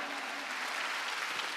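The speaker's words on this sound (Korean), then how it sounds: "박수 치라 이게야" Church congregation clapping during a Wednesday worship service, a steady dense wash of applause holding at even loudness throughout the short stretch.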